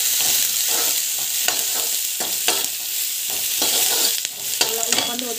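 Onions and curry leaves frying in hot oil, a steady close sizzle broken by repeated scraping stirs of a spoon against the pan, with no voices.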